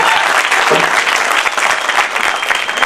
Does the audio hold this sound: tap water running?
no